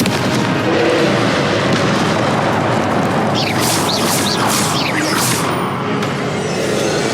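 Casting the Confringo fire spell in Hogwarts Legacy on PS4 gives a loud, continuous roar of blasts and booms, with whooshing streaks and crackling bursts in the middle, close and overwhelming.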